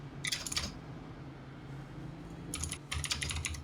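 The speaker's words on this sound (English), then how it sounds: "Typing intensifies." Bursts of rapid computer-keyboard typing, one flurry near the start and a longer run toward the end, close and crisp over a low steady hum, during an iRacing Cup Series race broadcast at Richmond.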